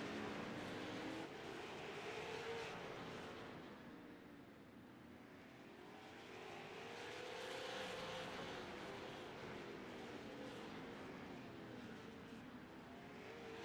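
Super late model race cars roar around a small track at Nashville, a continuous engine drone that swells and fades as the pack passes, moderately distant and steady.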